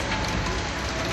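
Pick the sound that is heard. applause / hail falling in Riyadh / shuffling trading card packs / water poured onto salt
hail falling in Riyadh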